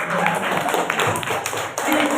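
Classroom of students applauding, a short burst of scattered clapping of uneven density with some background voices.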